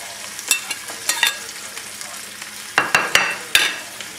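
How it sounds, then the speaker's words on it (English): Veal sizzles and crackles in a hot pan while a spoon stirs it, with irregular sharp scrapes and clinks over a steady frying hiss, close by and moderately loud; no talking. "Mix this up well. Let that veal get nice and hot."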